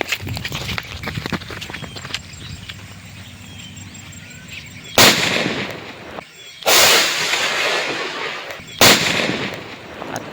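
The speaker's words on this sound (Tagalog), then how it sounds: "Subukan natin kung lakas ba sumabog." Three loud firecracker blasts go off a couple of seconds apart, each a sharp bang with a short crackling tail, following a stretch of quieter background noise.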